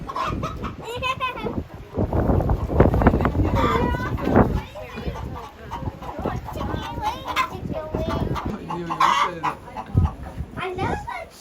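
Chickens clucking on a farm, close by and steady, with a few louder squawks mixed in while people chat over them.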